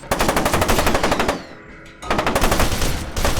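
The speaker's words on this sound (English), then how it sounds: "Every single gun handles and sounds so satisfyingly real" Rapid automatic gunfire from the video game F.E.A.R. bursts loudly, pauses briefly about halfway with a quieter rumble, then resumes in dense sustained volleys.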